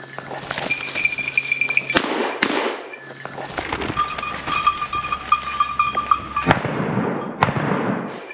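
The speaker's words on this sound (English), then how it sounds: "Dumped it on the second shot." Shotgun blasts ring out during a ruffed grouse hunt in Idaho aspen woods: a few sharp, loud reports spaced seconds apart over a steady outdoor background.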